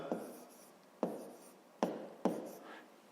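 Pen or pencil writing numbers by hand during a fifth-grade math lesson, heard as four sharp, close taps followed by soft scratchy strokes, each fading out.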